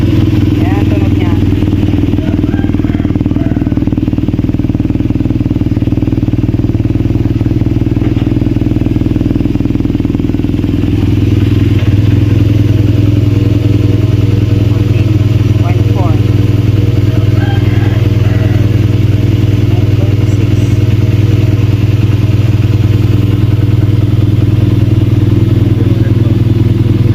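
BMW R nineT 1200cc motorcycle engine idling loudly up close, a steady rumbling throb with mechanical clatter that deepens a little partway through, as people talk over it.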